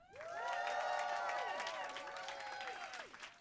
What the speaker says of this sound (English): please will you give me your greatest cheer and applause for one of the most iconic men on the planet, Mr. David Hasselhoff.